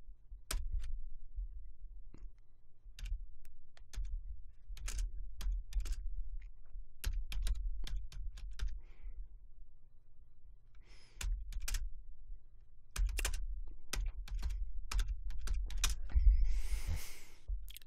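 Typing on a computer keyboard, heard close and alone: bursts of rapid key clicks separated by short pauses, with a steady low hum underneath and no voice.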